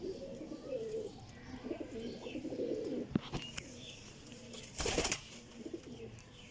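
Pure Kasuri pigeons with net-patterned plumage coo softly in low, rolling phrases from close by, with scattered chirps, a sharp knock, and a brief burst of flapping or rustling midway.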